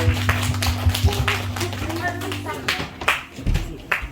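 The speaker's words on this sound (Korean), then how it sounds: "하나님께 영광의 박수 올리겠습니다." A church congregation at a Sunday worship service claps in praise, with brisk, uneven handclaps rising over a sustained organ or keyboard tone while voices speak alongside.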